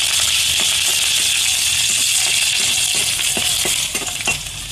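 Pointed gourd with green chili and whole cumin stirred in a frying pan, a steady loud sizzle with intermittent scraping and clinking of the spatula throughout.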